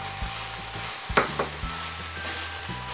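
Bánh xèo, a crisp Vietnamese crepe, frying in a pan with stir-fried shrimp added on top, giving a steady close sizzle broken by a few louder clattering scrapes and knocks, with no talking.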